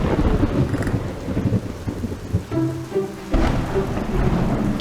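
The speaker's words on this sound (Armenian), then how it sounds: "Ինչ տեղատարափան ձրև է։" Heavy cartoon rainstorm with a steady downpour hissing and a loud roll of thunder rumbling throughout, close and dense, with no voices.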